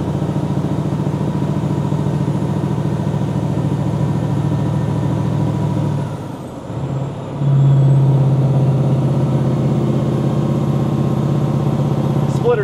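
A V8 semi truck hauling a cable shovel drones loudly and steadily, then dips briefly as a gear is dropped and the engine comes back in with a stronger, deeper roar.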